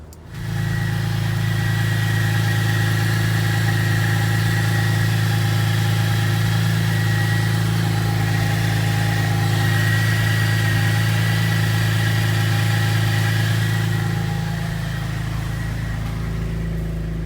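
A 2008 Pontiac G8 engine turns over and settles into a steady idle after an alternator replacement, a loud, even hum with a constant drone close by that eases slightly near the end.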